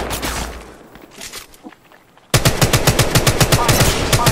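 Rapid automatic gunfire in the mobile battle royale game Apex Legends Mobile: scattered distant shots first, then a loud sustained burst of closely spaced rounds firing in quick rhythm.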